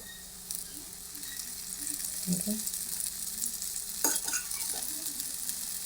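Cucumber talipattu flatbread cooking with oil drizzled around it in a pan, a soft steady sizzle with a few brief scrapes and clinks of a utensil, close and quiet.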